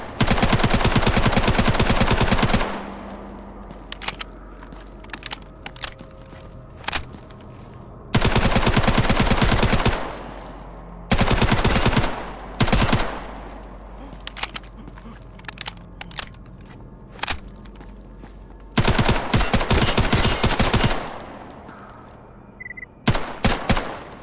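Rapid automatic gunfire from a weapon in the shooter game Stalker Gamma, fired in several long, loud bursts separated by short pauses, with a fast, steady rate of fire.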